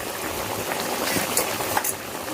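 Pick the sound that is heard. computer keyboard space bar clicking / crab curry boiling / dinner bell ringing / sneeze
crab curry boiling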